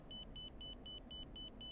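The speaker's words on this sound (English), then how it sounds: "The beeping you just heard was in marker for the airport" An airport marker beacon beeps in the DCS F-16C flight simulator, seven short even tones in a steady rhythm over a low, faint cockpit rumble.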